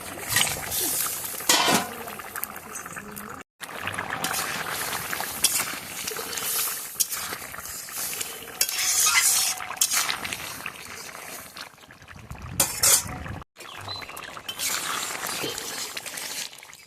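Pieces of rui fish drop into hot oil on a stove and fry with a loud, steady sizzle and spattering, broken by a couple of brief pauses.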